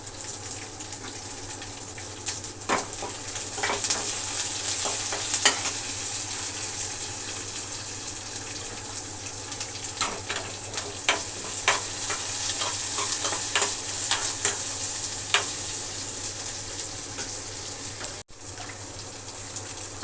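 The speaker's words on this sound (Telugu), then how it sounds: "వంకాయ కూరలో కొంచెం ఆవాలు వేస్తున్నాను" Mustard seeds frying in hot oil for a brinjal and potato curry, giving a steady close sizzle with scattered sharp pops and crackles throughout.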